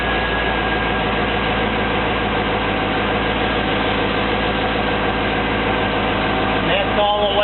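An engine idles with a steady, throbbing low rumble that holds constant, close and loud, with a brief shift in tone near the end.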